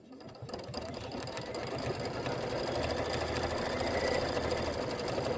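An embroidery machine quilts a Kimberbell Sweet Land of Liberty pillow panel, stitching in a rapid steady mechanical rhythm that builds slightly in loudness and then runs on evenly.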